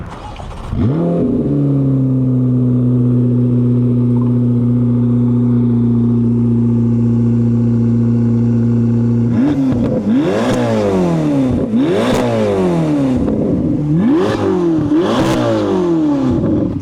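Chevrolet Corvette C8 ZR1 starting up, its engine settling into a loud steady idle, then revved hard in four sharp bursts that rise and fall close by.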